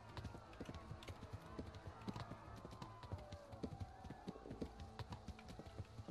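Horse hooves clip-clop steadily in the medieval video game Kingdom Come: Deliverance, a busy run of close, overlapping hoof taps over a low rumbling game soundscape.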